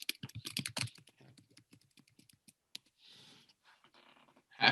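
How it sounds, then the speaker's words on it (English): Fingers type on a computer keyboard at close range, starting with a quick, dense flurry of key clicks, then slowing to sparse individual taps, with a louder clatter of keystrokes at the very end. "I'm going to type that."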